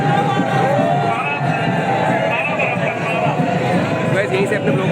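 A large crowd mills about after the burning of a Ravan effigy at a Dussehra celebration, a dense, continuous hubbub of many voices at a steady level throughout.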